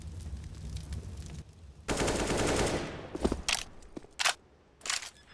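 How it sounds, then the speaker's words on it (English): Automatic rifle fire sprays in bursts during a Counter-Strike match in an ESL Challenger League game, with a long sustained volley followed by several short, sharp bursts over game ambience. "Sprays through smoke, not getting anyone, but Penguin will catch Hyza on the rotate."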